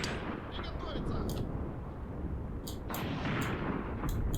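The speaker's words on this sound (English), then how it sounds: "You're shooting at something though." Gunfire and artillery in the tank combat game Graviteam Tactics, a dense rumbling din of distant shots and explosions with sharper cracks near the start and end, continuous and loud.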